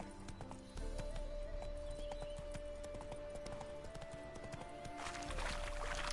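Hooves of Roach, a horse in a PS4 video game, clip-clop in a steady trotting rhythm, moderately close, with a brief whinny among the game sounds.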